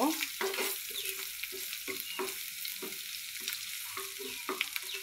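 Spices with turmeric and salt are stirred through a shrimp mixture in a hot pan for a Bengali shrimp bhuna with taro stolons, giving repeated close scraping strokes over a steady low sizzle.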